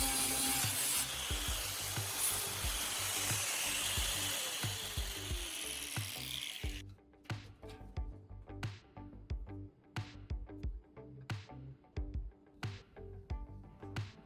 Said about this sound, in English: I'll use an angle grinder with a flat disc to meticulously refine its form.